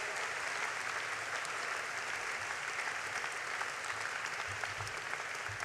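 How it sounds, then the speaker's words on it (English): Sustained applause from a large audience honoring standing graduates at a university graduation ceremony, a steady dense wash of clapping throughout with no breaks. "Big round of applause."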